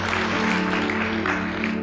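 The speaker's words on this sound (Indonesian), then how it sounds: "Berikan tepuk tangan buat Tuhan Yesus." A church congregation applauds during a sermon, a steady broad wash of many hands clapping, fairly loud throughout, with a low sustained musical tone underneath.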